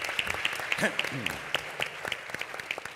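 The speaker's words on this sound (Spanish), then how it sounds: "Lo recibimos con un aplauso, ¿les parece?" An audience claps steadily for a few seconds at a business conference panel in Chile, a moderate round of applause with a voice briefly heard over it.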